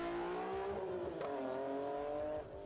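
A BMW S54 inline-six with a carbon airbox revs hard, a loud harmonic howl that holds high then dips and climbs again before cutting off near the end.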